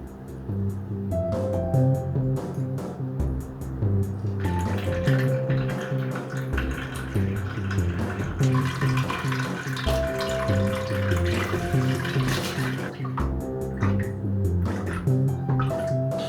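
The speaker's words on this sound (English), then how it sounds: "let's give the planting a water" Water pours steadily over a bonsai forest planting, a continuous splashing and trickling that stays fairly loud and close throughout, with no one speaking.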